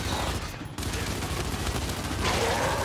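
Gunfire from the video game Gears 5 Hivebusters, a dense rapid burst of shots rattling almost continuously, loud and close, with a brief gap early on.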